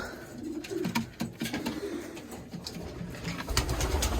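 Pigeons in a breeding loft coo in soft, low repeated phrases, close by, with scattered wing flutters and scuffs, and a louder rumble near the end.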